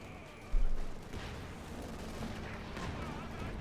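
Battlefield din from the World War II strategy game Company of Heroes 2, a sudden mortar-like impact followed by a continuous rumble of distant gunfire and explosions, dense and noisy throughout with faint background voices.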